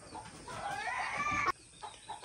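Azteca and Old English Game bantam chickens cluck nearby, a drawn-out rising call ending abruptly, followed by a few softer clucks.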